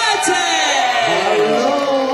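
A large audience cheers and whoops at an Oktoberfest oompah show in a beer-hall setting, a loud sustained roar of voices that fills the whole moment, with an announcer's voice ringing over it.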